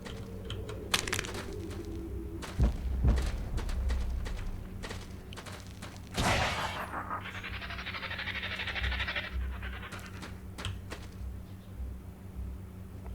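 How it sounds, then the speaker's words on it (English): Missile strikes in the video game FC Evolved, a broad explosive whoosh and rumble rising around the middle and spreading into a sustained noisy wash over a steady game background hum, with scattered sharper impacts before and after. "Okay, here comes the missiles."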